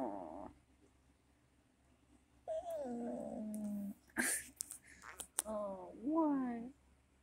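A dog whines and chatters in wavering, rising and falling yips and whimpers, a few separate bursts close by between quiet gaps, with a person talking softly nearby.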